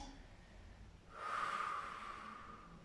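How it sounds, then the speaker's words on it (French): A slow, deep exhalation during a lower-back and leg stretching routine, a soft breathy rush that swells after a quiet start and holds for over a second before easing off, close and alone. "Encore une belle respiration."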